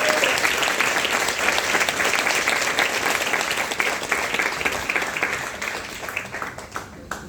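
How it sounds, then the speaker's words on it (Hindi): A large audience at a corporate gathering breaks into loud, sustained applause for seniors, dense clapping holding steady for several seconds before tapering slightly toward the end. "मैं चाहूंगा एक बार अपने सीनियर्स के लिए जोरदार ताली।"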